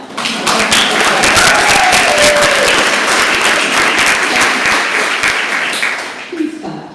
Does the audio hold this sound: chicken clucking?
no